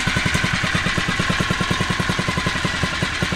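A Phatmoto Rover 79cc four-stroke motorized bicycle engine idles just after a cold start, with a steady, rapid, even chugging pulse, close and fairly loud throughout.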